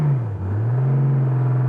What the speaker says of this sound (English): Oh, the throttle is very sensitive.